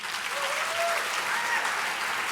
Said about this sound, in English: Ladies and gentlemen, another round of applause for Madeegha Anders.